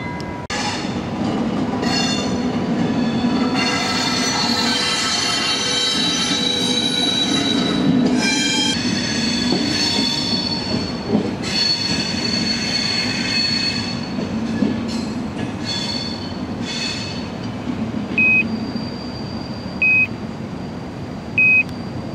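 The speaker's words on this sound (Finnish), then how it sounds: "Onko totta, että me näemme junan saapuvan Turun satamaan?" Train pulling into Turku harbour with loud, sustained wheel squeal over steady rail rumble, plus a few short electronic beeps near the end.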